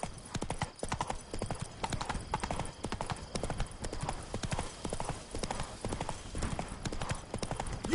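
Roach, a horse in The Witcher 3, gallops with rapid, steady clip-clop hoofbeats that run evenly throughout, fairly close and moderately loud, with no voices over them.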